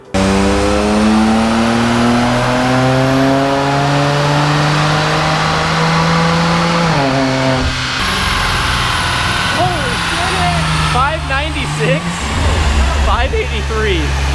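A BMW roars on a dyno, its engine revving up and holding high with a loud, rising whine and a strong droning tone, then dropping back and climbing again near the end.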